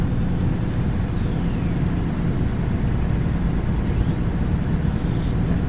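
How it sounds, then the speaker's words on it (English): Truck in the Truck World Australia video game, a loud steady engine rumble throughout with air brakes hissing and whooshing over it. "Typical truck noises,"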